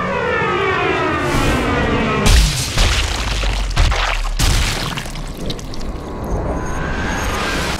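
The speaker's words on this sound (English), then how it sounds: "We're also firing the model 1903 Springfield with the original Unertal scope on it" An M1903 Springfield rifle fitted with an original Unertl scope fires at a WWII rifle shoot, giving a couple of loud, sharp booms over steady outdoor background noise.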